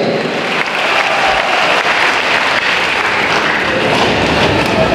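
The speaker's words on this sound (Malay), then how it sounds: "Beri tepukan kepada beliau." A crowd at a political rally in Keningau, Sabah, claps for the master of ceremonies: dense, steady applause filling the whole stretch at close, loud level with no speech.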